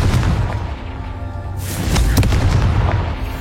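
In a Harry Potter video game, a Confringo spell goes off as a loud, booming blast that rises from a rumbling background and then decays into crackling noise.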